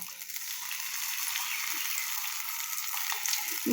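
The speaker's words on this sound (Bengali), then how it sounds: "এখন আমি একটু তেল দেব, কারণ মাছটা হালকা করে ভাজতে হবে।" Small fish frying lightly in oil sizzle softly and steadily, a faint, continuous crackle with a few scattered pops throughout and no voices.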